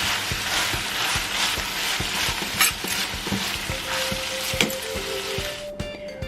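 Beef fajita meat with chili powder sizzling in a pan while a spatula stirs it in quick, rhythmic scrapes and taps, close and continuous, with no voices.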